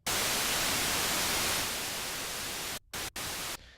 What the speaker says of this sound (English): we'll be able to hear that we just have white noise playing at this point